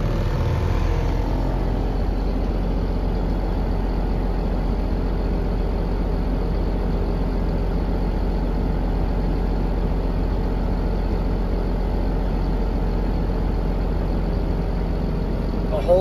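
Heavy truck diesel engine idling between 600 and 900 RPM during an air brake pressure buildup test, a steady low rumble with constant hum running unchanged for sixteen seconds, close and loud.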